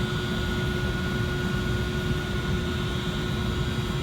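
Temporary exhaust fan running at a construction site in a tight work area, a steady broadband roar with a constant tonal hum, close and unbroken throughout with no talk.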